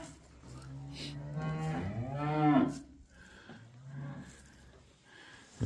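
Cows mooing in a farm feed barn, one long drawn-out low moo rising and bending in pitch, followed by a shorter, softer call, close and clear against a quiet background.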